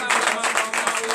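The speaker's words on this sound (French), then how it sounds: "Donne l'acclamation à l'Éternel" Congregation applauding the Lord during a night deliverance and prophecy service, dense clapping from many hands with voices mixed in, loud and close for a brief burst.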